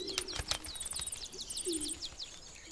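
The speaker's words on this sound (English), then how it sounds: "This is its original ancestor, the Atlantic canary." An Atlantic canary calls in the wild with short bright chirps and trills, interleaved with other soft bird notes close by, no voices.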